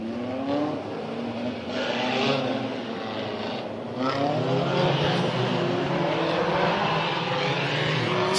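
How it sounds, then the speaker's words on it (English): Race cars at Orange Show Speedway drone continuously as they scuff their tires warm before a 4-lap trophy dash, with a wash of engine noise and rising and falling passes heard from the stands. "Scuffing the tires, getting them nice and a little warm for this 4-lap dash."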